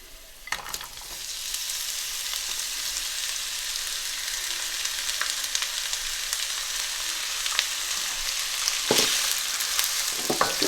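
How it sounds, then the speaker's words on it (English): Chopped onions sizzle steadily in hot oil for a samosa filling, a loud, continuous frying hiss with occasional brief pops and stirring scrapes, and no talking. "so I'm going to add onions to it."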